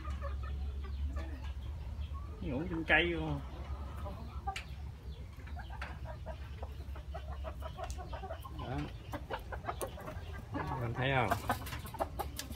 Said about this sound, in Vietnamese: Gà em cho nó vô chuồng hết.